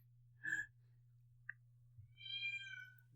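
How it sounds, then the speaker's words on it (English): A house cat lets out a sharp, loud meow, then a quiet chirp, then a long drawn-out yowl, each standing alone in an otherwise quiet room. "Can y'all hear that cat? Yeah, that cat is crazy loud"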